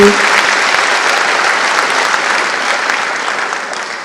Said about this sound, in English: Round applause, please.